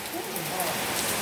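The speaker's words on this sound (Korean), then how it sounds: "비가 막 이렇게 쏟아지잖아요" Heavy summer monsoon rain pours onto a solar panel roof, a dense, continuous hiss of drops drumming close by for about a second.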